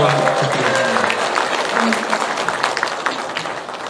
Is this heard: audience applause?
yes